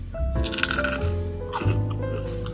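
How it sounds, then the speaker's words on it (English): Crisp oven-baked fries bitten up close, giving a couple of loud, crackly crunches followed by chewing, with no talking over them. "Check out this crunch."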